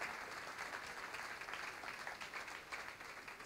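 An audience applauding together at an event, a steady wash of clapping that sounds somewhat distant and fills the whole moment without pause.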